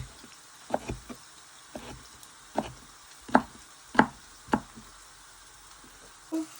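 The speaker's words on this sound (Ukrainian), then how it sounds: "І тепер ми нарізаємо нашу крапиву." A knife chops fresh nettles on a board in a kitchen, giving a string of separate crisp knocks at an irregular pace over faint background sizzling from onions frying nearby.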